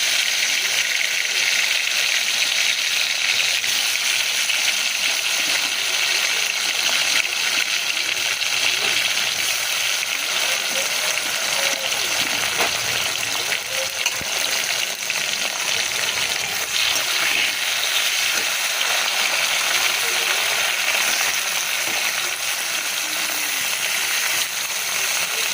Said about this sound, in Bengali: দেখতে দেখতে ভেজে নিয়েছি কাঁকরোল, আর এই দেখো পটল দুটোই।